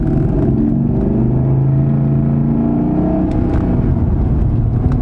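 A 1990s BMW Alpina B10 with an automatic gearbox accelerating from first and shifting up through the gears, the engine pulling loud and close inside the car with rising tones broken by each shift, and no talking.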